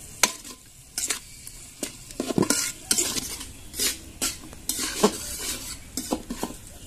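Chilli powder, salt and masala being fried and stirred in a pan for a prawn malai curry: repeated spoon scrapes and metallic clinks against the pan, close and fairly quiet, over a low sizzle, with no voices.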